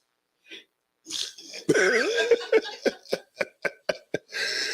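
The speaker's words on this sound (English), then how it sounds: "It's rough coughing now, ain't it?" A person coughs repeatedly, a rough throaty fit of short bursts in a steady rhythm, close and fairly quiet.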